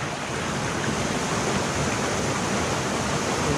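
Fresh spring water flows nonstop through rural farmland, a steady broad rushing hiss, fairly loud and close, with no voices on top.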